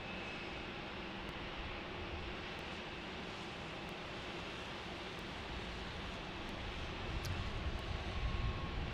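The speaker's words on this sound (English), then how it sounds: "Notice how slow they're taxiing Alaska is because they have a flow time, so they're taxiing super slow." An Alaska airliner taxiing slowly at night at Salt Lake City airport, heard as a continuous distant jet engine rumble and hiss that stays steady and slightly swells near the end, with no talking.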